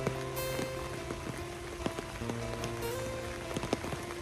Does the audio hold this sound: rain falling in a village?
yes